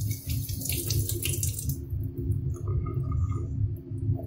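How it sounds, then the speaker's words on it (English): A tap runs steadily into a sink during handwashing with soap, a close continuous splashing flow that thins out after a couple of seconds into lighter trickling and drips. "quickly getting my hands wet, scrubbing with the soap for 10 seconds, and then rinsing just long enough to get the soap off"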